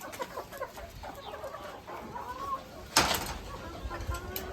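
Chickens on a home farm cluck and murmur nearby in a steady stream, with a sharper squawk midway and a person speaking softly over them.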